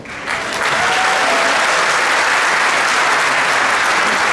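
An audience at a Lega political rally for candidate Luca Zaia breaks into loud, dense applause that swells within half a second and holds steady throughout, with no voices over it.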